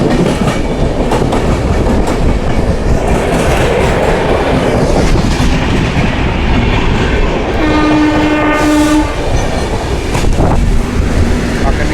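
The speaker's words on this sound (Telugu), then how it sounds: "బికానేర్ నుంచి బిలాస్పూర్ వెళ్ళే ట్రైన్ గాయ్స్." A Bikaner to Bilaspur passenger train rumbles past close by, loud and continuous with wheel clatter, while its horn blares for a couple of seconds midway.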